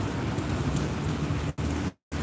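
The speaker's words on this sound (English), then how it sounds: "I'm sitting here until this rain stops." Steady rain falling outdoors in sunshine, a dense continuous hiss close by that cuts out briefly near the end before resuming.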